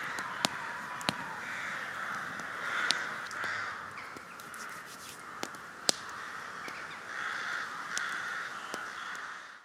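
Crows caw over and over outdoors, harsh calls overlapping at a moderate distance, with a few sharp clicks scattered through.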